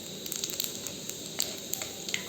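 Whole red chillies, whole garam masala and cumin seeds sizzling in hot oil, a steady close hiss dotted with irregular small pops and crackles.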